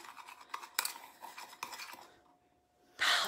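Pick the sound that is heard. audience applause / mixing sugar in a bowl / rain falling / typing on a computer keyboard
mixing sugar in a bowl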